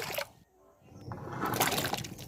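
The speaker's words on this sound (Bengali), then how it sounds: "কড়ার মধ্যে পরিমাণ মতো কিছুটা জল দিয়ে দিচ্ছি" Water poured into a kadai cooking pan, with a short splashing pour that swells after a brief lull, close and fairly loud.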